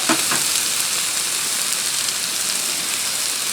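Steak sizzles loudly and continuously on a Blackstone griddle, a close, dense crackling hiss that holds steady throughout with no voices.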